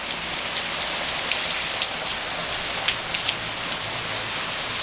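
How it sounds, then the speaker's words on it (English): Rain falls steadily outside in a dense, even hiss with scattered nearby drops pattering on surfaces, and no other sounds stand out. "when it's raining like this outside"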